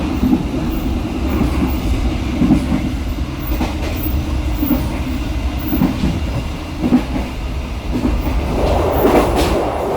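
A Pasundan economy passenger train rolls along the rails with steady rumbling and rhythmic clickety-clack from the wheels, close and continuous throughout.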